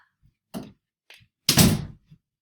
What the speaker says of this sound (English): Let me go shut that door.